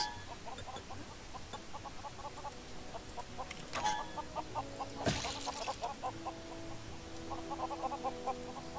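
Chickens cluck in the LEGO Worlds video game, a steady run of short repeated calls through the whole stretch over a low game background, with a brief louder burst near the middle and no talk.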